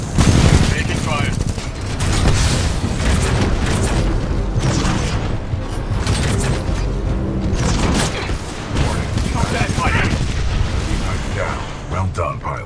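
Dense, loud gunfire and explosive booms from the Titanfall 2 video game campaign fill the whole stretch, with continuous rattling shots and heavy impacts under occasional voiced game dialogue.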